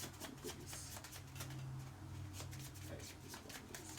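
A deck of tarot cards is shuffled by hand at a reading table, giving a soft, continuous riffling and sliding rustle for several seconds at low volume.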